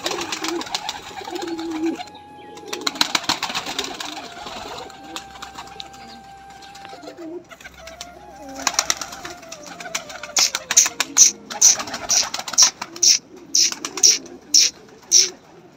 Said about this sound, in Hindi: कबूतर भी रखे हैं